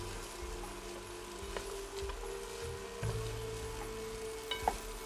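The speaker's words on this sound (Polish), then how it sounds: "Ładnie nam się to rumieni, ładnie się nam tak smaży." Food sizzles quietly in a frying pan while being stirred, a soft continuous crackle broken by occasional scrapes and light knocks of a utensil, with no talking.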